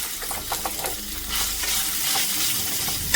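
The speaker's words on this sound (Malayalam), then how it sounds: "ഇനി ഇതിലേക്ക് കട്ട് ചെയ്ത് വെച്ചേക്കുന്ന സവോളയും ക്യാപ്സിക്കും ക്യാരറ്റും ഒക്കെ ഇട്ട് കൊടുത്താണ് ലോ ഫ്ലെയിമിൽ ഒന്ന് വഴറ്റിയെടുക്കും." Sliced onion, capsicum and carrot sauté over a low flame for chicken rolls, giving a steady close sizzle with soft scraping stir strokes scattered through it and no talking.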